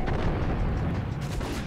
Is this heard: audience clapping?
no